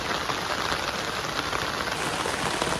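Steady rain falling and pattering densely on surfaces, a loud continuous hiss with no talking.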